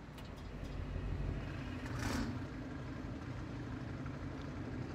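A truck engine fitted with an engine mod in a trucking game runs at a steady low rumble, fairly quiet and constant, with a brief brighter hiss midway and no talk over it.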